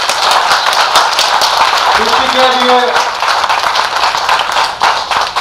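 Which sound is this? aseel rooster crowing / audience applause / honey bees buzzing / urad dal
audience applause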